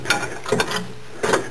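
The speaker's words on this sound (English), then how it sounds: "if I feed this down to the pulley bolt, and then start turning clockwise" A ratcheting socket spanner clicks as it turns a Land Rover engine pulley bolt clockwise, giving three short, close mechanical ratchet bursts with quiet gaps between.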